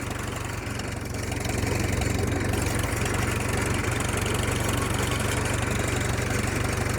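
A 1938 Farmall F-20 tractor engine runs in second gear with a loud, steady, low chugging drone and rhythmic knock, close by, swelling slightly as it picks up.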